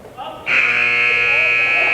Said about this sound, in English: At the buzzer.